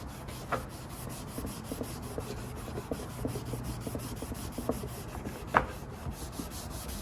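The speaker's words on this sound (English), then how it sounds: "I think that's all I really need is just this abrasive pad to scrape that faded part out" Abrasive pad scrubbing faded plastic on a Yamaha XT 500 motorcycle side cover during restoration, a steady close rubbing scrape with a few sharper strokes standing out, no talking.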